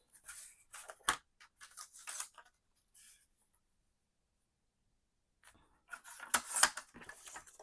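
Paper being cut for a handmade tri-fold mini album, with a few quick crisp snips near the start, a pause, then a denser run of louder cutting strokes close by, and no talking.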